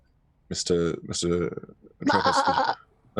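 A person imitates a sheep bleating during a tabletop role-playing game, giving several wavering, nasal baa cries in short bursts, close and loud, with other voices around.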